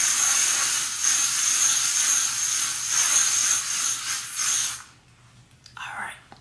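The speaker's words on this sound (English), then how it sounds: "it sounds and kind of feels like hairspray" A continuous hissing face spray, like hairspray, runs for about five seconds, close and steady, then stops, leaving quiet room sound and a brief bit of speech.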